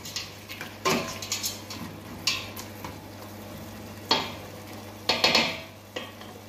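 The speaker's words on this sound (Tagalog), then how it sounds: "Halu-haluin lang natin yan." Shrimp being stirred in a cooking pan, with scattered scraping and clinking strikes of a utensil against the metal at an uneven rhythm over a faint background hum, close by with no talking.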